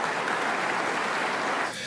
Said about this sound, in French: Vous pouvez applaudir aussi